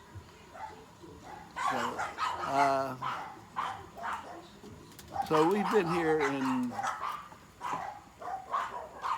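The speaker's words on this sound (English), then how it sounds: "dogs, hush it up" Dogs bark and whimper in the background at home while someone speaks over them, the barks intermittent and partly masked by his talking.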